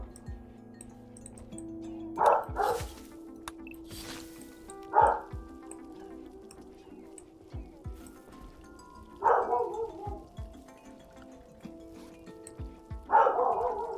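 Dogs bark outdoors while someone works outside, sounding as four or five separate bursts spread several seconds apart. The barks are moderately distant and rise over a quiet background.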